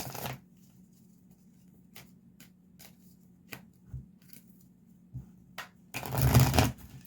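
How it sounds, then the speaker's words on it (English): Tarot cards are shuffled by hand in a series of short riffling bursts and taps, close and clear, ending in a louder sustained riffle. "I can't get these cards shuffled."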